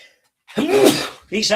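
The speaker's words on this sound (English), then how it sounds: "Hold on, I'm going to sneeze." A single sharp sneeze bursts out after a brief silence, loud and close, followed by a short breathy sound.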